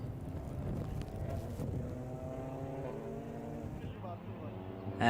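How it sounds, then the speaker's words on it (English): Touring car engines drone on track during a TCR Eastern Europe race at Most, a layered, steady roar of the field at moderate distance with a commentator's voice over it. "We also hear the roar of the engine."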